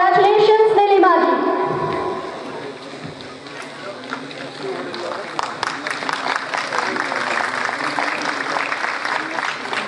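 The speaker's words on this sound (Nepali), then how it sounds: "ताली अलि कम भयो" Audience applause at a Nepali film award ceremony, broken clapping that swells after a brief spoken introduction and continues steadily under a busy hall ambience.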